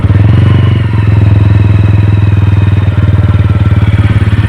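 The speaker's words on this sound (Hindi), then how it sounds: "गाड़ी की आवाज़ सुन लेते हैं।" A TVS Ronin motorcycle engine runs steadily after servicing, a loud, close, even idle with a deep rhythmic thump and light mechanical clatter, no voices over it.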